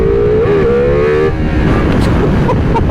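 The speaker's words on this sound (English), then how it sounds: "now it's a real Desmosedici engine" The V4 Desmosedici-derived engine of a 2024 Ducati Multistrada RS revs loudly and close, a rising then falling tone in the first second followed by rough, gritty engine roar and wind.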